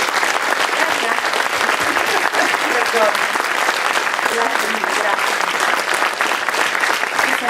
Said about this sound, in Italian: un applauso per voi